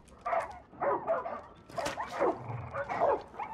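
Ordinary dogs barking in the video game Far Cry 5, a run of close, loud yapping barks repeating in quick bursts, with a brief low rumble underneath.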